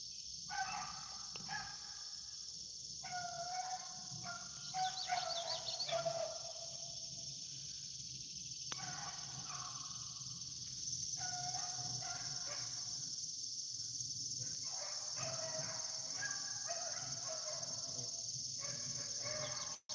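Beagles bay and howl in repeated bursts while running a rabbit outdoors, the pack's voices rising and falling at a moderate distance over a steady background hum, with short gaps between the baying spells.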